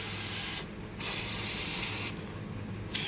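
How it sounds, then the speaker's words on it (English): Fluid Film lubricant sprayed into the full hard door latch of a Jeep Wrangler YJ, heard as three hissing aerosol bursts close by, separated by short pauses, with no talk. "So you're going to take fluid film and you're going to spray it all in here."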